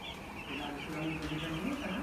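Chickens and young chicks in a poultry cage cluck and cheep softly at close range, low and steady throughout, with a few brighter calls rising toward the end.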